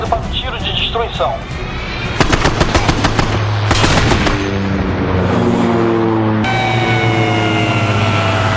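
A fighter aircraft fires its machine gun in loud rapid bursts over a roaring jet engine, with the noise close and intense throughout.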